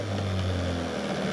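A boat engine fitted with an electric choke runs at fast idle on old gas, a steady, even drone with a low hum throughout, close and unbroken.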